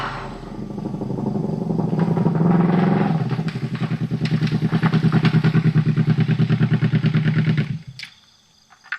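A small motorcycle engine runs close by with a steady, pulsing chug that swells slightly, holds for several seconds, then cuts off abruptly near the end.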